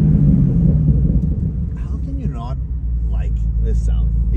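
A 2015 Camaro Z/28 engine rumbles steadily and closely from inside the car while driving, a deep continuous drone with a voice speaking briefly over it.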